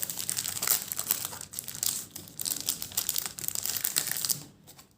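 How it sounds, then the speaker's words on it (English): Foil wrapper of a WWE Slam Attax Reloaded trading card pack being torn open and handled, a continuous close, loud crinkling and crackling that fades out near the end, with no voices. "In this video I'll be opening 10 packets"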